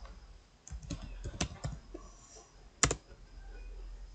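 Quick bursts of typing on a computer keyboard as a name is entered, scattered clicks with short pauses between them, close and fairly quiet.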